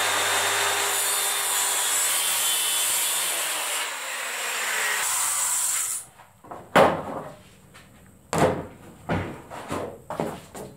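Mica laminate sheet cut freehand with a power tool, a steady loud whine for about six seconds, then a quieter stretch of short scraping and tapping bursts as the piece is handled.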